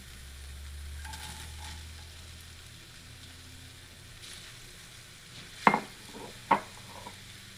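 Onion goes into a hot pan where chicken has been cooking for a potpie, giving a soft steady sizzle with a couple of sharp clatters from a utensil or pan near the end.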